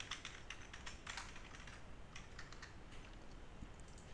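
Rapid, uneven clatter of keys as code is typed on a computer keyboard, steady and close for about four seconds with no voice, over a faint background hiss.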